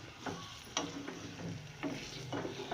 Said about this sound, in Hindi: इसे मैं बहुत अच्छी तरह मिक्स कर दूंगी और भून लूँगी गोश्त के साथ।